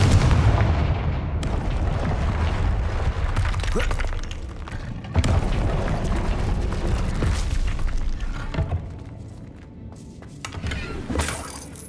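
A fiery Confringo spell explosion in Hogwarts Legacy sounds as sharp, heavy booms and crackling blasts, several times across the stretch, loud against busy game ambience.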